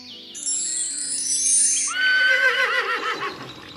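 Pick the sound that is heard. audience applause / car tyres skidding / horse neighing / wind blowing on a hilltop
horse neighing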